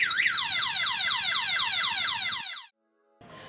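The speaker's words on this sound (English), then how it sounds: "if someone touches my bike, then the siren will start making loud noise" A keyless motorbike's anti-theft alarm siren blares a loud, fast, repeating warble for about two and a half seconds, cuts out abruptly, then briefly starts again.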